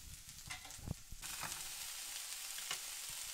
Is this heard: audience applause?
no